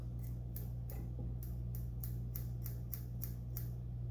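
Scissors snip repeatedly while trimming the materials of a mahi dolphin saltwater fly, about nine crisp, evenly spaced cuts up close over a steady low hum.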